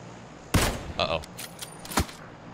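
Sharp gunshots from the battle game PUBG, a loud close crack followed by a few smaller shots and a second strong report near the end, with faint speech in the background.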